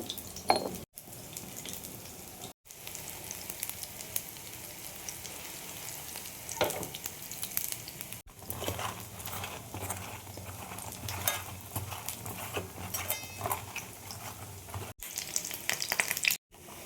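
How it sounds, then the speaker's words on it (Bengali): Shrimp fritters made with gram flour batter fry in hot oil with a continuous low crackle and sizzle, punctuated by occasional clatters of a utensil, with no talking. "একটু টাইম নিয়ে ভাজতে হবে বড়াগুলো, নাহলে কাঁচা থেকে যাবে, বেসনের গন্ধ বেরোবে।"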